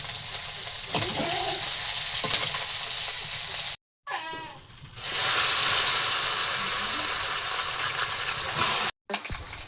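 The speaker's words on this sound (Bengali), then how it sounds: "মুচমুচে মাছ ভাজা হয়ে গেছে" Puti fish frying crisp in a pan: a loud, steady broadband sizzle with brief cuts to silence, plus a short softer stretch with faint clinks before the sizzle swells again.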